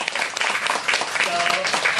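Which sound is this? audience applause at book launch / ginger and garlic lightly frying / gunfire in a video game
audience applause at book launch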